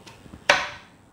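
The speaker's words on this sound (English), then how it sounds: "we are going to chop them up" A knife chops apples into slices on a cutting board for a home-baked apple crumble: one sharp, close knock of the blade hitting the board, preceded by faint light taps, with the sound quickly fading.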